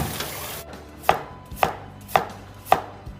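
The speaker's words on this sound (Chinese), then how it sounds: "这样拿刀切菜是错误的示范" A knife chops vegetables in four sharp, evenly spaced strikes roughly half a second apart, close and crisp against a quiet background, with no talking.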